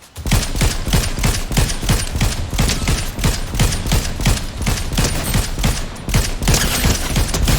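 Rapid, loud gunfire fills a video game scene, with a dense volley of close shots repeating steadily for several seconds without a break.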